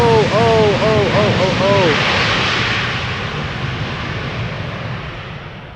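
A jumbo jet airliner comes in to land at Schiphol with a loud engine roar that swells and then slowly fades into the distance, while people talk excitedly over it at the start.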